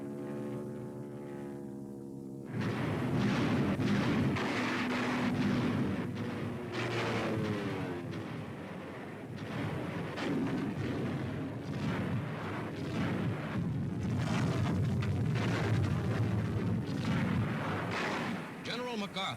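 Artillery and bombers blast enemy coastal positions in a 1944 WW2 newsreel from the Allied drive, heavy continuous booming and rumbling explosions under a narrator's voice and music.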